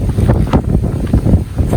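Wind gusts across the microphone on the windy side of an island, giving a loud, uneven low rumble with bursts of buffeting and no talking.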